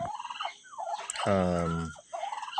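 Female turkeys fighting on a farm let out a loud, rattling gobble-like call between sharp agitated clucks and squawks, the birds sounding close by.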